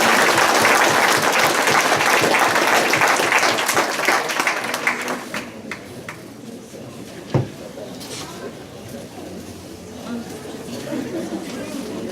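A banquet crowd at a motor speedway awards night applauds a champion, loud dense clapping that fades after about five seconds into quieter room noise with a single sharp knock.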